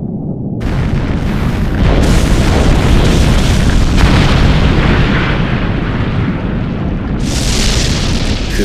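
A massive, sustained explosive rumble roars on for several seconds, deep and dense with bursts of crackling debris, loud and close: a video game blast flash-boiling an underground water vein into a large landslide.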